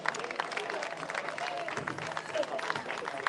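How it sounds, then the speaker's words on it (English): Audience applause at a Paterson flag raising ceremony, a dense patter of many hands clapping steadily with crowd murmur mixed in. "Give another round of applause."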